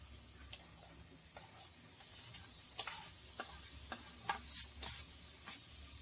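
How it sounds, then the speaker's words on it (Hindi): Eggs go into a masala in a pan over a low flame and are stirred, leaving a quiet sizzle with scattered spatula scrapes and light knocks that grow more frequent toward the end. "अब हम इसमें अंडे डाल देते हैं"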